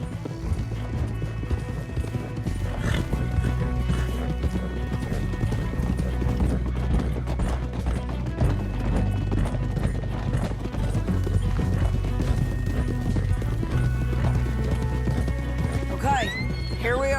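Rapid clip-clop of galloping horses with occasional neighs in Red Dead Redemption 2, loud and steady over a thick bed of music and effects.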